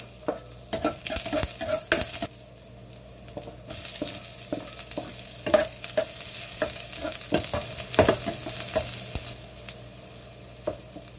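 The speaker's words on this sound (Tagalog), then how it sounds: "init na natin yung kawali, lagyan na rin natin ng mantika at igisa ang bawang sibuyas" Garlic and onion sautéing in hot oil in a pan while being cooked down, steady sizzle broken by repeated sharp scrapes and clinks of a spatula stirring, close and fairly loud with no talking.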